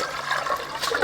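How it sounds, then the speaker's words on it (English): Water pours into rice for a vegetarian paella, a close, steady splashing and gurgling stream with no pauses across the brief moment, and no talking. "I'm just going to be adding water to it."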